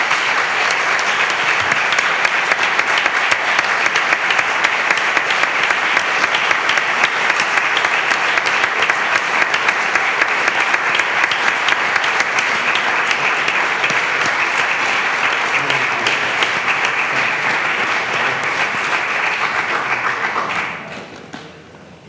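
Sustained applause from an audience at a 40th anniversary celebration of the FAPA Francisco Giner de los Ríos parents' federation, dense steady clapping for about twenty seconds before tapering off.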